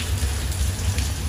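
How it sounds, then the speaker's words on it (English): Heavy rain in the Dominican Republic pours and drips steadily off a building, a dense continuous wash of water close by with no pauses across the short stretch. "It's raining like mad heavy."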